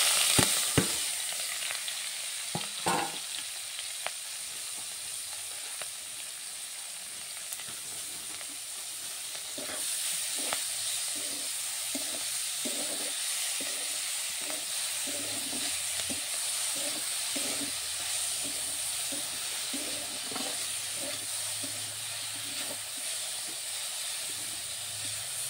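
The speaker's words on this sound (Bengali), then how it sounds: "কম জাল দিয়ে শাকটা ভেজে নেব।" Boiled cabbage greens (kapi shak) frying over low heat in a pan, a steady close sizzle and hiss with occasional stirring scrapes and soft clicks running throughout, no voices.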